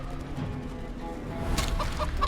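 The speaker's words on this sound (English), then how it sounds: "Noisy chicken." A chicken in the video game Divinity: Original Sin 2 gives a few short, sharp clucks near the end after quieter game background noise, heard close and fairly faint.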